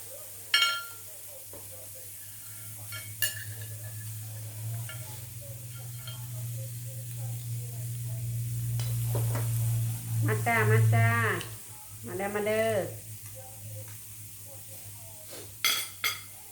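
Pork liver frying in a pan, with a steady sizzle running under intermittent talk and occasional clinks of utensils against the pan.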